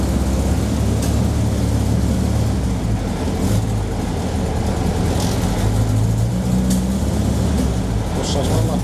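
A Ford Anglia's engine runs hard on a dynamometer, a steady loud mechanical drone with low rumble throughout, while people talk over it.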